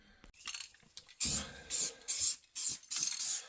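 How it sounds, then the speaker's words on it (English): Five short bursts of an aerosol can of black spray paint hissing, each about a second long with brief pauses between, preceded by faint rattling and handling. "I'm just giving this a quick and dirty coat of rattle can black"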